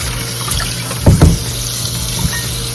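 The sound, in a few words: oxtails being rinsed under cold running tap water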